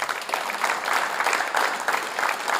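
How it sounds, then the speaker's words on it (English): An audience at a parenting event claps steadily for a panel, a dense, sustained round of applause from a crowded room with no voices standing out above it. "Can we give them a round of applause?"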